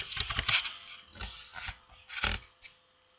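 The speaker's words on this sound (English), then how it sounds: "Now in the search bar you're gonna type in wireless." A computer keyboard is typed on, a short cluster of soft clicky keystrokes followed by a few scattered taps, close and moderately quiet.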